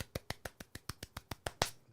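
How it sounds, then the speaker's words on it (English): Quiet, evenly spaced golf claps, about eleven soft slaps in a steady rhythm, close by and alone, with a slightly louder final clap. "Golf clap, golf clap."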